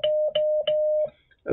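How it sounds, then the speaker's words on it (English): Morse code tones sending the numeral one: a steady mid-pitched beep in several long dashes with short gaps, clear and alone, ending in a brief burst of other noise. "a one is da-da-da-da-da"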